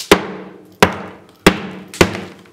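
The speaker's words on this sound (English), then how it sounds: "Smash it with the hammer and see what happens." Four loud, evenly spaced hammer blows strike a watermelon frozen with liquid nitrogen, not frozen all the way through; each crack is sharp, with a short ringing decay and no voices.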